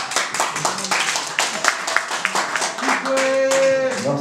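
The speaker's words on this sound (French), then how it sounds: "Est-ce qu'on peut applaudir, s'il vous plaît?" Audience clapping at a musician's press conference, a scattered burst of hand claps under cheering voices, with a sustained tonal sound entering near the end.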